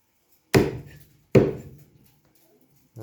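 A cleaver chops lamb meat on a wooden board: two heavy, separate thuds spaced almost a second apart, with a third starting at the end, close and crisp with quiet gaps between.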